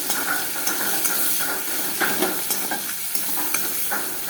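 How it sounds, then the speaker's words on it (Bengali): Mutton with onions frying in a wok for mutton kosha, a steady sizzle broken by repeated spoon scrapes and stirring knocks at an uneven pace, close and clear with no talk. "এখন একটু ভাজা ভাজা হবে ভালো করে।"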